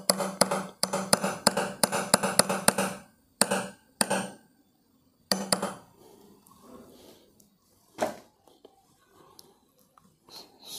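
Rapid, sharp hammer blows ring out in quick bursts while making homemade carbon electrodes, then grow sparser with quiet stretches and a few single strikes, one final hit standing out.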